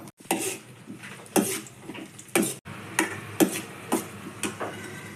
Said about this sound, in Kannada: ತುಪ್ಪ ಹಾಕ್ಕೊಂಡು ನಾನಿಲ್ಲಿ ಸ್ವಲ್ಪ ಗೋಡಂಬಿ ಬಾದಾಮು ದ್ರಾಕ್ಷಿ ತಗೊಂಡಿದ್ದೀನಿ ಸ್ವಲ್ಪ ಕಾಯಿಸ್ಬಿಟ್ಟು ಬೇರೆನೇ ತೆಗೆದಿಟ್ಕೋಬೇಕು